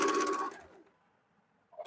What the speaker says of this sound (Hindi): उसको चाप सिलाई चलाएंगे